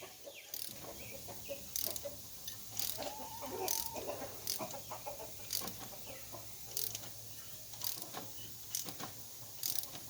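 A ratchet wrench clicks in repeated short bursts while loosening a spark plug on a 1999 Dodge Ram 1500 with a 5.2L V8, close and fairly quiet, with some faint background noise.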